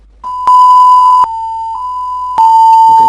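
Synthesized tone modeling a vibrating string with fixed endpoints: a steady pure electronic pitch that swells louder in two bright bursts with added overtones, then settles back, heard alone.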